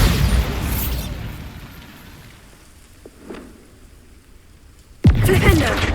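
A Bombarda spell explosion in the video game Hogwarts Legacy: a sudden loud blast near the end that follows a quieter stretch of ambient rumble, opening with a noisy burst and settling into a softer hiss.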